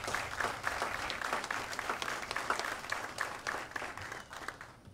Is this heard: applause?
yes